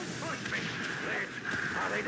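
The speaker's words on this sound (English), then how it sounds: "As soon as I attack the enemy, my howitzer should fire back." Howitzer artillery fires in the war game Warpath, with a couple of muffled booms punching through a steady, dense layer of battle noise and a droning tone, with no talking.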